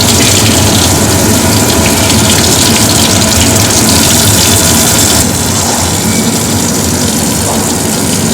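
Water runs loudly and continuously from a surgical scrub sink faucet, a dense close rush with no talk over it.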